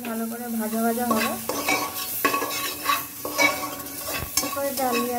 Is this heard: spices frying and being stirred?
yes